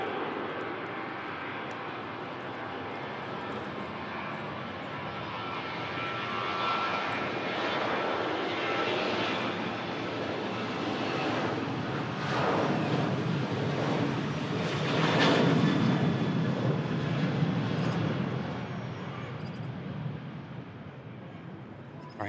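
A Ryanair jet takes off from runway 05L at Manchester Airport, its engine roar loud and steady, swelling and rumbling with broad noise throughout.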